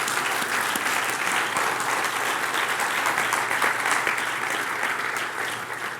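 A church congregation applauds during a sermon, a steady, full wash of clapping that continues throughout and fades slightly at the end.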